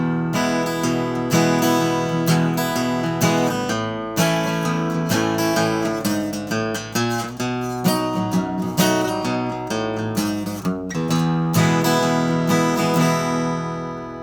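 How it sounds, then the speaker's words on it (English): Acoustic guitar strumming a chord progression while a bass line is added underneath, one-man-band style, with steady rhythmic strokes and sustained low notes throughout, loud and close with no talking. "So now if we add in the bass line, it'll make everything more interesting."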